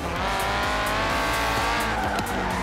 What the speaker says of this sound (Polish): Tutaj mnie konkretnie zarzuciło.